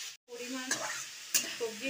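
Vegetables for poha pulao fry with salt in a pan, a brief, soft sizzle broken by a couple of sharp stirring scrapes.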